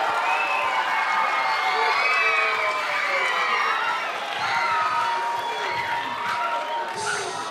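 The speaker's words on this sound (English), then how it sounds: "applause for them" Concert audience at a city band performance cheers and applauds, a lively mix of shouting, whoops and children's voices over clapping, loud and sustained.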